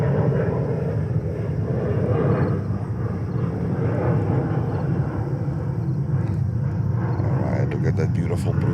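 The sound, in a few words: Delta 2420 airliner landing on runway 22 left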